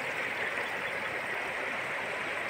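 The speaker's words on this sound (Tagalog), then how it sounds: "Ang ganda ng agos ng tubig." A river carrying sand and stones near Barangay Matin-ao, Mainit, Surigao del Norte, flows in a steady, even rush of moving water, moderately loud and continuous with no voices.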